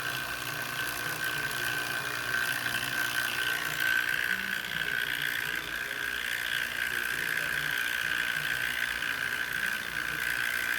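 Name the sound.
vacuum pump running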